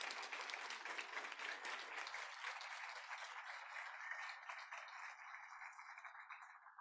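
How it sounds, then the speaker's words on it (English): An audience at a campus event honoring a congressional visit gives a round of applause, faint and distant, thinning out after a couple of seconds into lighter clapping that carries on to the end. "So give them a round of applause."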